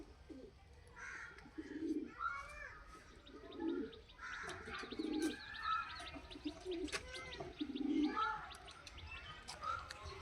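Pigeons in a loft, including a hen pigeon, give soft gurgling coos in short bursts, fairly quiet, with some wing flutters and rustling in the background.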